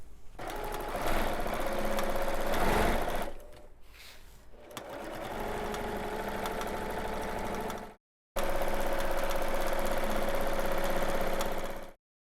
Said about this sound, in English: And then again, just a few quilting stitches.